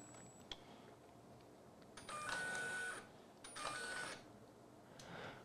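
A 3D printer docks its print head into cleaning solution with two stretches of mechanical whirring and a high motor whine, each lasting about a second, separated by a quiet pause, close and moderately loud with no talk.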